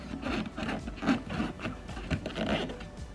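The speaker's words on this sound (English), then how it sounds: "So then I can come in with my metal trim tool and just wriggle that underneath and then lift it up." A metal trim tool scrapes and wriggles beneath a plastic cowl trim clip on a Mk3 Ford Focus RS, giving close, continuous rubbing and grinding with small rhythmic scratches and no talking.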